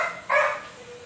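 A sick dog grunting once, a short strained vocal burst close by, followed by a quieter tail amid a faint indoor background.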